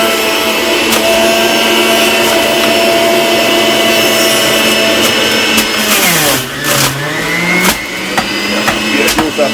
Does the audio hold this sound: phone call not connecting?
no